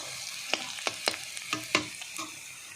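Onions frying in a pan, a soft continuous sizzle punctuated by several sharp stirring scrapes and taps at irregular intervals, close up and without talk.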